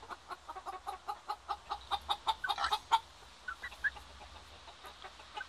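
A rooster gives a run of quick, rhythmic clucks close by, rising in a rapid series before trailing off into a few scattered calls.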